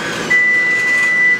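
A home fire alarm set off during brownie baking sounds as a loud, piercing, continuous high-pitched tone that starts abruptly and holds steady for about a second.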